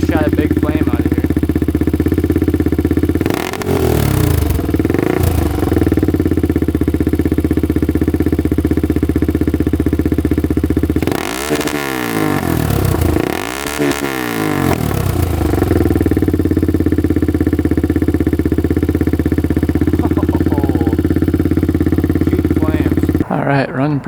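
A cheaply built quad's small engine running steadily and loudly up close, a rough, clattery idle with a few brief blips of revving.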